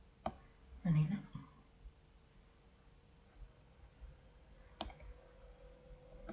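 Computer mouse clicks at a desk while copying and inserting spreadsheet cells, a few sharp isolated clicks spaced seconds apart, close and quiet, with a short burst of murmured voice early on.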